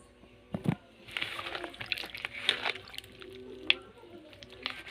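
Water sloshing and squishing as a pot is washed by hand, with scattered drips and splashes over a few seconds and a couple of sharper knocks of the vessel, close and fairly quiet.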